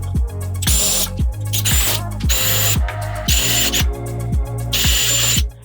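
A power drill bores out and rounds a hole in a DIY cabinet, running in repeated short bursts of high whining with brief pauses between, loud and close with no talking.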